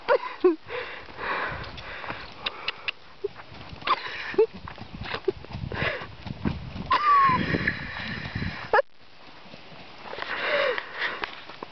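Horse trotting in a riding arena, hooves clip-clopping in an uneven rhythm alongside snorts and rustling, with a person talking intermittently over the movement.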